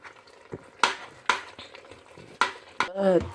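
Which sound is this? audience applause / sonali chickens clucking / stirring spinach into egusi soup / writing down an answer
stirring spinach into egusi soup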